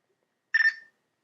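A phone gives one short electronic ring tone, a single clear beep lasting about a third of a second in otherwise silent surroundings.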